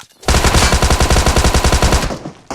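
Rapid automatic gunfire in an online shooter game, a loud sustained burst of evenly spaced shots lasting about two seconds, close and dominant with no talk over it.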